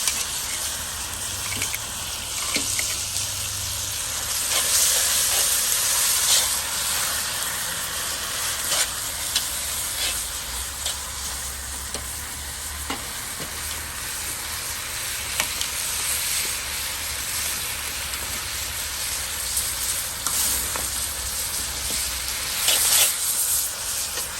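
Steak fajitas in a Lodge cast iron wok on a Weber kettle grill give a steady, loud sizzle and hiss throughout, with scattered crackles and occasional spatula scrapes as the pan is moved over the heat.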